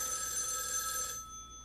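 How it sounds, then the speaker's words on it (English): A telephone ringing in the video game Death Mark 2; a bright electronic ring sustains for about a second, then stops abruptly, leaving a quiet hum, with no speech. "Out of the blue, my phone rings."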